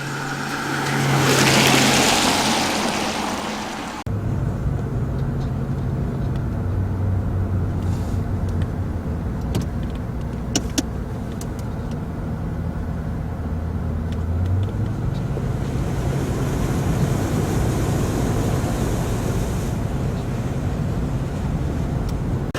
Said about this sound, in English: today we're taking the Jaguar and thought, well, we'll give it a little run.